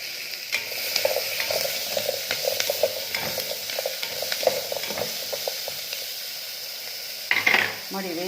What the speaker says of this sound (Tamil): அதுக்கப்புறம் பூண்டு பொரிஞ்ச உடனே வெங்காயம், தக்காளி,